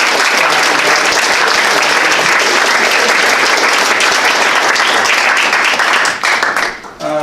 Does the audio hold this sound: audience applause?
yes